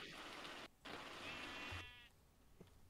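A sheep bleats once in a video game, a short wavering call heard faintly over steady, dense background noise.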